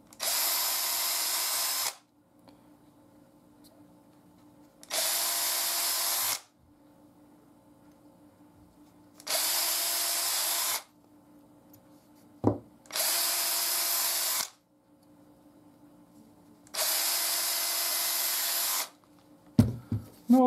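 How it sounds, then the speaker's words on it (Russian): A power drill whirs in five separate bursts of about a second or two each, with quiet pauses and occasional clunks between them. "таким вот макаром сверлим отверстие"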